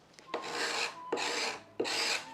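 Three rasping scrapes of a tool stripping surplus wood filler from a wooden door under restoration, each stroke starting with a sharp attack and lasting about half a second, close and steady.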